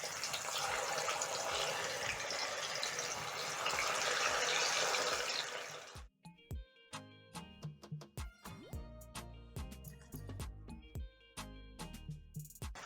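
Cassava pieces frying in hot cooking oil give a loud, dense crackling sizzle for about six seconds, then it cuts abruptly to sparse clicks and pops.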